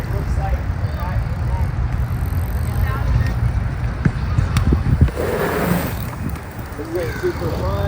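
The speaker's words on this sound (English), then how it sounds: "here's another point of view of me riding around on this e-bike" A HIKEEP MA-T dual-motor e-bike being ridden around, with steady broadband wind and road rumble throughout and a few brief knocks and clatters near the middle; a voice talks faintly under the riding noise.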